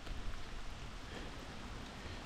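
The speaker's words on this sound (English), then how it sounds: "it's raining again." Rain falls steadily outdoors in October woods in Wisconsin, a soft, even hiss of drops with no other sounds.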